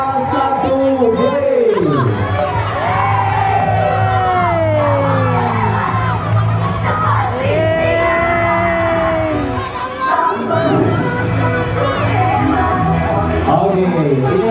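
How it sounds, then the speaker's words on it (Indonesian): Elementary school children at the closing of the MPLS orientation at SDN 04 Ciganjur cheer for class 1D, with loud, sustained shouting, whoops and crowd noise close by. "beri tepuk tangan yang meriah buat kelas 1D"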